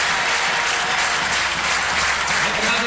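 Football fans applaud steadily at an Artmedia Bratislava versus Celtic match as a young player leaves the field, a dense, continuous wash of clapping from a large stadium crowd with no voices standing out.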